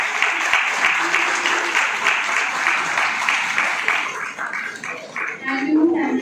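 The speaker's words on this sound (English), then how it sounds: "congratulate their parents with a very big round of applause" Loud audience applause fills a school hall at an Independence Day celebration, steady sustained clapping from a large crowd throughout, with cheers rising near the end.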